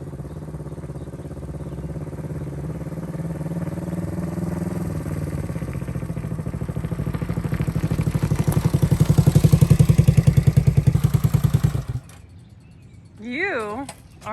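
A vintage Honda CB450 motorcycle engine runs close by with a steady chugging idle that rises and grows louder before cutting off abruptly, leaving a brief whistle-like sound at the end.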